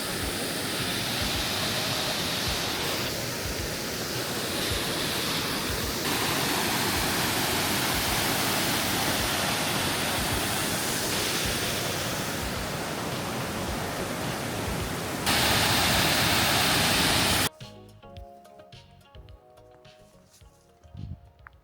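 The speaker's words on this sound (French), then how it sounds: "On arrive à la cascade." A loud, steady roar of rushing water from a mountain waterfall in the Pyrenees fills most of the recording, then cuts away to quieter background sounds near the end.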